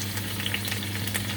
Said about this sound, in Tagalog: Prito ko muna itong hipon.